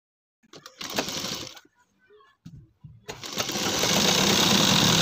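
A sewing machine stitching a ladies' purse and its attached fabric strip runs in two bursts, a short run and then a longer, steady, louder whir, with brief quiet handling sounds between them.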